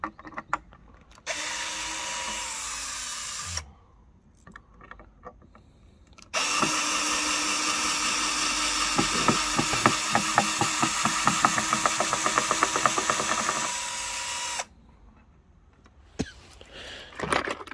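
A cordless screwdriver drives long screws into wood in two sustained, loud, close bursts of whirring motor noise separated by a quiet pause, with no one talking.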